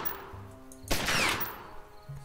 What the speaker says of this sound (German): Gekonnter Schuss.